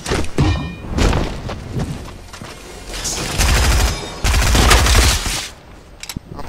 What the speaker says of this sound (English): Oh, he has a minigun on that.